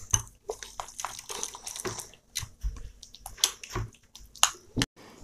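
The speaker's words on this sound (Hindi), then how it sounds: "तो हमें इसके बैटर को इसको अच्छी तरह मिक्स करना है, इसको अच्छे से मिलाना है हमें" Jalebi batter is stirred into a soft mix in a home kitchen, producing close, wet, irregular slapping and squelching strokes with uneven pauses.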